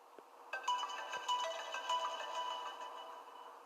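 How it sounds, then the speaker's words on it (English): An iPhone 7 ringtone plays a short melodic tune, sounding slightly muffled and dull, with no talking, the phone submerged in Coca-Cola. "We're going to play a ringtone here."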